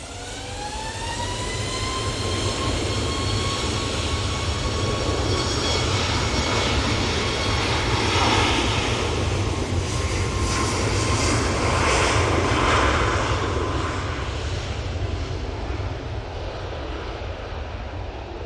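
A Ryanair jet takes off from Manchester Airport bound for Murcia, its engines spooling up with a rising whine over a continuous heavy roar that stays loud throughout, no speech.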